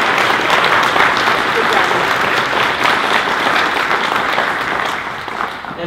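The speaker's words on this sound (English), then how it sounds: "let's give one more round of applause to these candidates for a good job" Steady audience applause following a county council district debate between candidates, a dense, sustained clapping from a room full of people that holds loud for several seconds before tapering slightly at the end.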